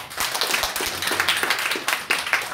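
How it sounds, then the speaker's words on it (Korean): A church congregation at a Sunday morning service claps steadily to welcome a newcomer, a dense burst of applause close around with no talking. "우리 박수로 환영."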